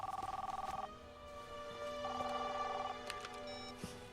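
A telephone rings with a rapid trilling electronic bell in two bursts separated by a pause, clear and moderately close in an otherwise quiet room, followed by a few faint clicks.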